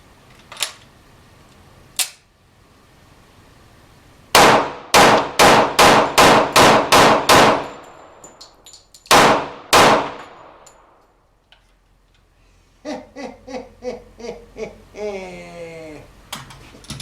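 Taurus PT145 pistol fires loud, close gunshots: a couple of isolated shots, then a rapid string of about seven, two more, and a later quieter burst of sharp reports with echoing ring.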